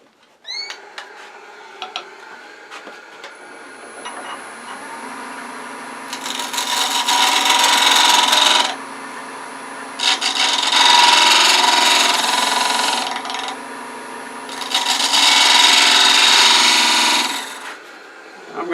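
A spindle gouge shears across stabilized wood spinning on a lathe, giving three loud, sustained bursts of cutting and scraping over a steady motor hum, with short quieter gaps between passes.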